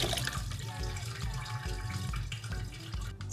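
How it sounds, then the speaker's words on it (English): Ginger root, unpeeled and dirty, washed clean by hand under a running kitchen tap, with a steady loud stream of water splashing continuously and no talking. "Just go ahead and wash it until it gets clean."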